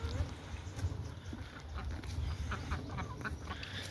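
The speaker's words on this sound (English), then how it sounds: "What the hell are those ducks doing?" Ducks quack on a farm on a cold morning, a scattering of short nasal calls over a low rumbling background, fairly close but modest in level.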